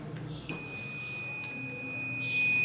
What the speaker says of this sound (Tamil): திரும்ப நான் வைக்கிறேன் பாருங்கள், ஒரு பீப் சவுண்ட் வந்து கேட்குது